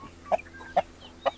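A rooster gives three short, evenly spaced clucks, clear and close, over a quiet background.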